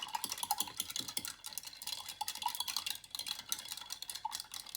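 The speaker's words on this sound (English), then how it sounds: "now we'll rinse our brush out" A paintbrush is rinsed in a water jar during watercolor painting, giving quick, light clinks, taps and swishes against the glass, close and quiet with no voices.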